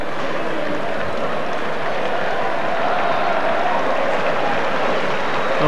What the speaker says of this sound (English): Very sporting from the Guiseley players, clapping their rivals.